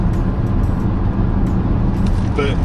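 A BMW X5 M50d pulls hard on a wet road, its engine and tyre roar a steady, loud in-cabin drone throughout the brief stretch.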